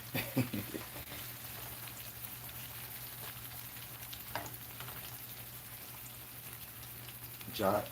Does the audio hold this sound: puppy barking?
no